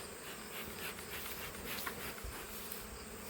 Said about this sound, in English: so the bees that are still in there can climb into their new home